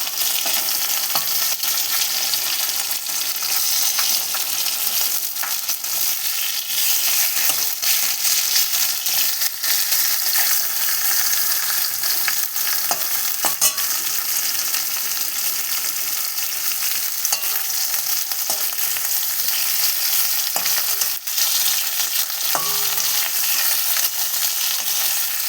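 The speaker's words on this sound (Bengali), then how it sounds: "আর এইদিকে দেখো মাছ ভাজা বসিয়েছি" Fish fries in a pan of oil with a loud, continuous sizzle and crackle close by, a few faint clinks and scrapes scattered through it.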